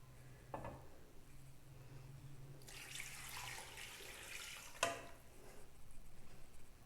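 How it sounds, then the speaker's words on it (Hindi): Water pours into a pot of desi chicken and spice mixture for murgh shorba, a soft, fairly faint splashing rush lasting about two seconds and ending in a small knock, in an otherwise quiet kitchen. "अब इसके अंदर पानी शामिल करेंगे,"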